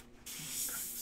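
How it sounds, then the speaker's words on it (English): A single short spritz of Windex window cleaner from a spray bottle, a quick airy hiss up close after a brief moment of quiet. "I'm gonna give this little spritz of Windex."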